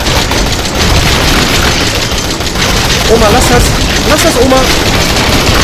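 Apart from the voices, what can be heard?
gunshots fired at the eyes in Resident Evil 7 (video game)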